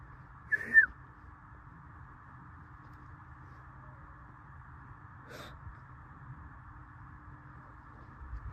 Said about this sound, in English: I just heard a whistle.